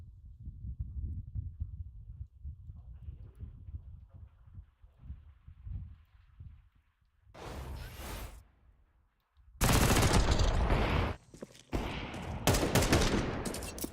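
Gunfire in a Counter-Strike match: a short burst of shots, a pause, then a longer run of loud, sharp rifle taps and volleys close up, with little or no talk.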